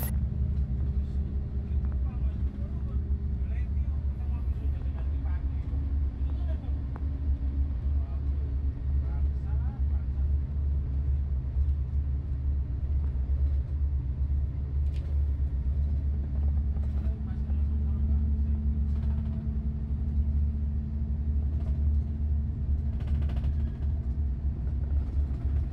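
A coach bus drives on the road between Malang and Pasuruan on the way to Surabaya, its engine rumbling as a steady low drone throughout with faint cabin noises and occasional muffled talk.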